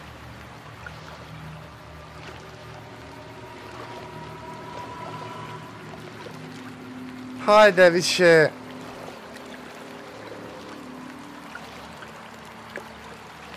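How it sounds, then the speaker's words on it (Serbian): A boat is rowed through water in the horror game Outlast 2: a short cluster of loud splashing strokes bursts out midway over a quiet ambient bed, with someone talking around it. "Ima li kraj ovom pedalanju? Veslanju."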